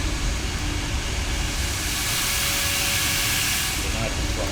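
A broad, steady roaring hiss of Boeing 737 MAX jet engines in a flight simulator game, constant and loud throughout, with a voice speaking faintly underneath.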